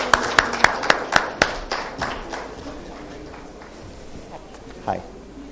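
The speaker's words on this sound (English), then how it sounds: "Give a big round of applause." Audience clapping at a business unconference, starting with a handful of sharp, loud individual claps that quickly thin into softer, scattered applause over a murmuring room.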